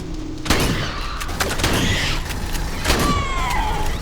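Shotgun blasts in a first-person shooter game, fired at a steady weapon-matched rate; a sharp loud shot opens, more bursts and mechanical clacks follow with whirring and metallic tails over continuous game ambience.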